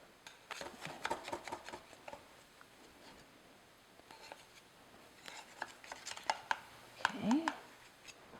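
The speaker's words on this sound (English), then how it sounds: "run either a sharp knife or a spatula, a metal spatula, around the" A sharp knife or metal spatula scraping around the edge of a pineapple upside-down cake pan, quiet intermittent scratchy strokes in short bursts, with a faint voice nearby.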